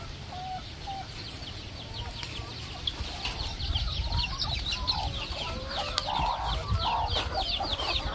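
Chickens clucking steadily on a Thai farm, several birds close by with overlapping calls and a busy outdoor background.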